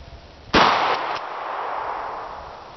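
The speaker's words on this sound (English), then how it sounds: "wax slug against an old radiator" A single sharp, loud bang as a wax slug is fired at an old radiator, followed by a brief metallic clang and a fading ring-out tail.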